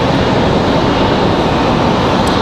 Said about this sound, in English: So a couple of our heavies here. 787-9 Dreamliner